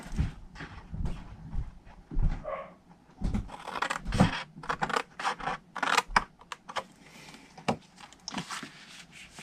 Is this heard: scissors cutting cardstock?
yes